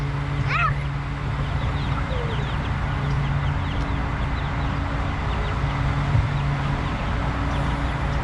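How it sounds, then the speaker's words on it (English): Chickens at a farm animal petting zoo give short clucks and a brief squawk near the start, over steady outdoor background noise from a busy crowd. "Look at the chicken."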